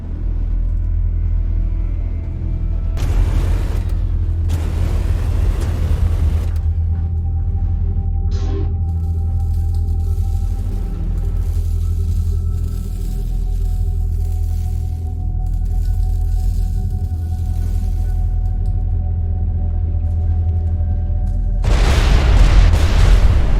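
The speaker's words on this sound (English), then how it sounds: "Please attain some distance while I detonate the onboard explosives." Onboard explosives detonating aboard a freighter in a video game: broad booming bursts around three and five seconds and again near the end, rolling over a steady low engine-like drone, loud and close with no talk.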